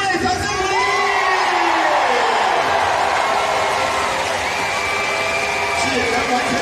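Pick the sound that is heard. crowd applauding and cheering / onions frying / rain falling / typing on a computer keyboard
crowd applauding and cheering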